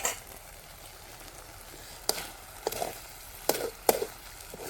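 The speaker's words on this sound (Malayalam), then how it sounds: "നമ്മുടെ മെഴുക്കുരട്ടി ഒന്ന് ഇളക്കി കൊടുക്കാവേ" Several sharp scraping clatters of a utensil stirring a vegetable stir-fry in a pan, spaced a second or so apart, over a low steady background hiss.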